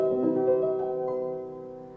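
Schubert-era fortepiano played softly with the pianissimo moderator pedal, a few sustained muted notes and chords fading gently, close and alone with no talk.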